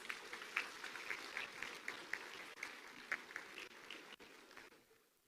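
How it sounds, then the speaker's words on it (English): An audience applauds a medal presentation at a Sikh sports union centenary celebration, a steady wash of distant, moderately quiet clapping that tapers off near the end. "A round of applause, please."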